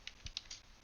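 A few soft keystrokes tap on a computer keyboard, four faint clicks in under a second, close and quiet with no voices.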